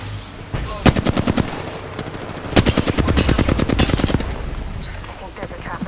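Loud, close automatic gunfire in a video game: rapid machine-gun bursts, one after another, with a short gap between volleys and a faint hum of game sound underneath.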